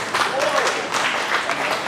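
Audience clapping at a stand-up comedy show, a steady wash of applause filling the room for the full two seconds, with a few voices faintly audible underneath.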